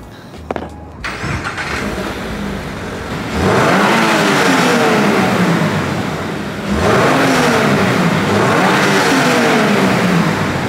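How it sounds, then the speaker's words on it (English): A 2022 Subaru BRZ with stock exhaust revs hard twice in a parking garage, each rev surging loudly and holding a deep, raspy roar, with a brief idle between. "if you're somebody that wants to stick with the stock exhaust, just keep that in mind"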